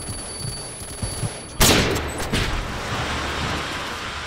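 Gunfire in a shooter video game, a single sharp loud burst of shots after a quiet stretch, then a shorter follow-up crack and a lingering noisy tail.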